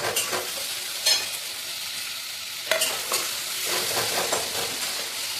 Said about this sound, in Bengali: তো পেঁয়াজ ভাজা হয়ে গেছে, মশলাটা দিয়ে দিলাম